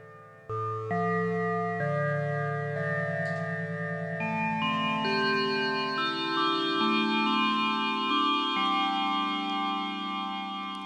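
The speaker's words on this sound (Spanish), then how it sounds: "Agregamos un poco de reverb." Behringer Wave synthesizer playing bell-like wavetable chords with reverb added, sustained tones that glide and change pitch in a continuous, loud, washy stream with no voices.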